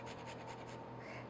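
Whole nutmeg is grated on a microplane in a home kitchen, giving a few quick rhythmic rasping strokes close by, then a softer scrape as the strokes fade.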